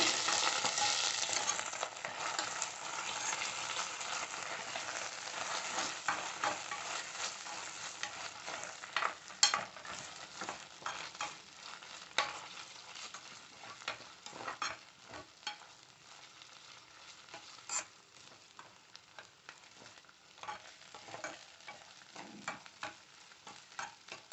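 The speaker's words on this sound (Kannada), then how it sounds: "ಈಗ 1 ಸ್ಪೂನಷ್ಟು ಬೆಳ್ಳುಳ್ಳಿ ಶುಂಠಿ ಪೇಸ್ಟ್ ಇಟ್ಕೊಂಡಿದ್ವಲ್ಲ ಅದು ಹಾಕೋಣ. ಇದು ಚೆನ್ನಾಗಿ ಫ್ರೈ ಆಗಲಿ." Garlic-ginger paste fries with softened onions in a pan for black pepper chicken. A steady, fairly quiet sizzle runs throughout, punctuated by irregular clicks and scrapes of stirring. The sizzle gradually fades, and no one speaks.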